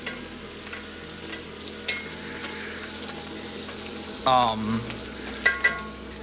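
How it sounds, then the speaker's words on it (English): Lamb chops sizzling in a tilted pan with melted butter and garlic, a steady close fry with soft scraping as the hot fat is spooned over, then a few sharper clinks and a louder burst of spattering near the end. "get that butter melted, get that garlic up in there. Then what we're going to do is we're going to tilt our pan back. We're going to baste these lamb chops."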